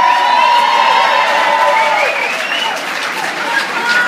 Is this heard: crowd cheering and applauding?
yes